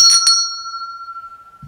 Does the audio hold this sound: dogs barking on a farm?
no